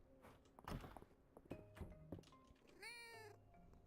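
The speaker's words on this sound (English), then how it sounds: "Kitty cat." A cat meows in the farming video game Fields of Mistria, a clear rising-and-falling cry near the end, with soft game thumps, footsteps and ambient background sounds before it.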